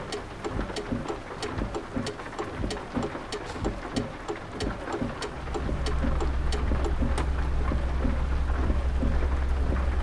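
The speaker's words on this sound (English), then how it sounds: "boy, it's raining again here" Steady rain with thunder rumbling through a storm in the Euro Truck Simulator 2 driving game, dense patter of drops and low rolling thunder that swells louder in the second half, no talk.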